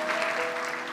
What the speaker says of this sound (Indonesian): Kasih tepuk tangan untuk kemuliaan nama Tuhan